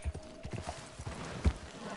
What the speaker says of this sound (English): Gotta steal a horse.